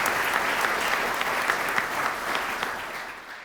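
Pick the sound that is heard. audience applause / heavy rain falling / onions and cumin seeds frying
audience applause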